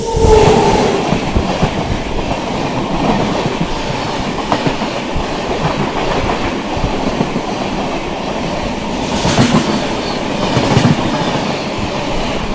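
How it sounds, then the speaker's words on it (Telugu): The Falaknuma Express rushes by at about 130 km/h in the opposite direction, heard from aboard another moving train, a loud continuous rattle with rhythmic clickety-clack and brief sharp swells as it passes. "మన ఆపోజిట్లో వచ్చి ఫలక్నామా అయితే వస్తుంది రఫ్తార్లో"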